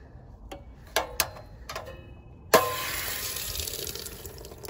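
Pressure relief valve on an RV water heater opened, a sudden loud hiss of escaping water and air that holds steady after a few clicks and taps.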